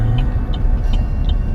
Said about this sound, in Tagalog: May mga gaano sasakyan pero hindi naman gano'ng kadami.